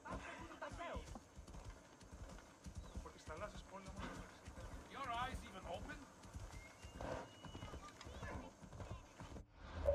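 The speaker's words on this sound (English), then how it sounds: "Okay, let's go and take my horse." A horse gallops in Assassin's Creed Odyssey on Xbox Series S, its rhythmic clip-clop hoofbeats running steadily beneath someone talking throughout, with a brief neigh.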